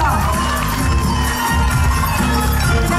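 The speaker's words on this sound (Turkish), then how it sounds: "Çok kuvvetli alkışlarla" A large festival crowd in Midyat applauds and cheers continuously and loudly, with dense clapping and shouting voices filling the space at close range throughout.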